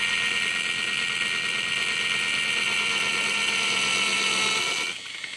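A mini pottery wheel whirs steadily and close as clay is trimmed on it, a continuous high buzzing hum that cuts off abruptly near the end.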